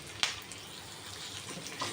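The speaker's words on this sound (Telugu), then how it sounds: "అల్లం వెల్లి పేస్ట్ పచ్చివాసన పోయేంత వరకు వేయించుకోవాలి." Onions, green chillies and ginger garlic paste frying in a pan for mushroom pulao, a steady soft sizzle with a couple of sharp spatula clinks standing out.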